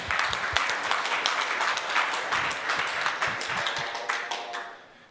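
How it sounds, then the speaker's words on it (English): An audience at a presentation on non-malleable zkSNARKs applauds with dense, sustained clapping that fades out at the end. "so round of applause."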